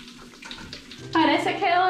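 Fizzing, bubbling dragon-egg bath toys dissolving in colored pool water, a soft crackling fizz rising to a louder, busier bubbling halfway through, with children nearby.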